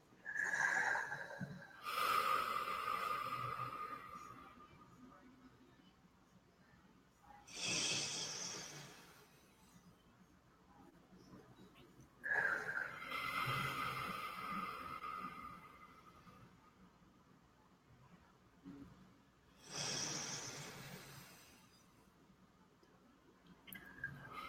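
A group breathes slowly and deeply together, long airy inhalations and exhalations swelling and fading in a slow repeated rhythm, fairly quiet and close.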